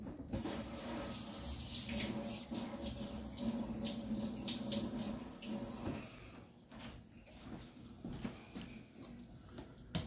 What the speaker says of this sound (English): Rinse off the spoon.